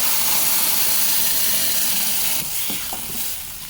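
Masala stirred into fried onions in a pan with the stove switched off, a steady close sizzle fading slightly as a few soft scraping stirs break through near the end.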